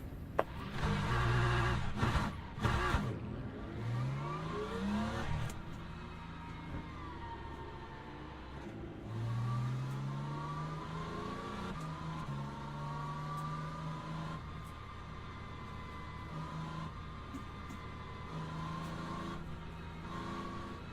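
Race cars in the Le Mans Ultimate sim grind through a pit-lane start, engines revving and rising in pitch over and over, loud and close, with a Ford among the cars pulling away from the pits.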